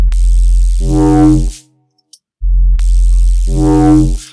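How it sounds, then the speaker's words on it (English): An unprocessed bass bus in a mix plays a deep, booming note twice, each hit heavy and sustained with a rattly low rumble, separated by a short gap of silence. "So without anything on, the bass sounds like this."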